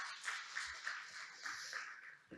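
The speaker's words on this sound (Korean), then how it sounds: "큰 박수로 환영해 주시기 바랍니다." Audience at an international academic symposium claps to welcome a speaker, a faint, thin patter of scattered hands with a few distinct louder claps, short and distant.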